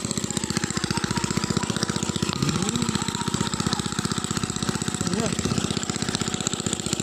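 A pond-dredging machine lifting mud runs with a steady, rapid engine chug, loud and close throughout, with a faint voice briefly rising over it.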